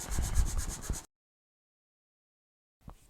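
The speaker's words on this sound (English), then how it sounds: "I just want to rough up the insides of this wood." A cherry wood knife handle is scuffed with rapid, rhythmic back-and-forth rubbing strokes up close for about a second, then silence, then a brief faint scrape.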